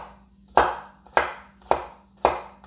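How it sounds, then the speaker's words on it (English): Four crisp, evenly spaced chops of a thick Shun chef's knife biting into a dense onion on a cutting board, each a sharp close knock with a short decay, with no talking. "This one, because the knife is much thicker, I wasn't able to go as far into the onion as I want to."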